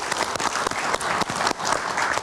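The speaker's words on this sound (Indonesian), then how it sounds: "Kita berikan tepuk tangan dulu" Steady crowd applause at a political event at the KPU building, dense clapping from many hands sustained throughout without a break, close and full.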